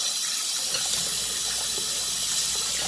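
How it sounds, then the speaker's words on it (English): Warm water runs steadily over Irish sea moss as it is rinsed by hand in a sink, a continuous close gushing wash with faint handling underneath and no talking. "It can be warm water. Just want to rinse it and get your hands into it."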